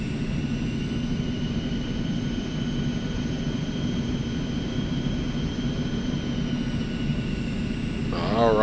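A private jet in X-Plane 11 taxis toward the fuel area, its engine a steady whining drone with a low rumble, continuous and fairly close, swelling slightly at the end.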